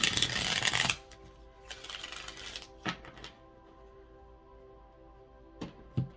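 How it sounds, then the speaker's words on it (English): A burst of tarot card shuffling, riffled quickly, then a second shorter shuffle, followed by a few soft taps and card handling sounds in a quiet room. "So one last shuffle here."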